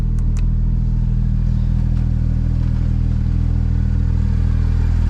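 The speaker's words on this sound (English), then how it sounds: "We'll open up the exhaust." Porsche GT3 RS with its exhaust opened, idling close by with a loud, deep, steady engine rumble and a couple of faint clicks near the start.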